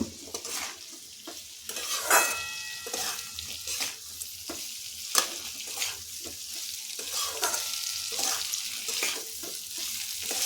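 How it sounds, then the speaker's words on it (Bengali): Grated ginger frying with winter vegetables in a pan, with a steady sizzle broken by repeated scraping stirs of a spatula, close and moderately loud, with no talking. "এখন আদাটা এই সবজিগুলোর সাথে একসাথে ভেজে নেব।"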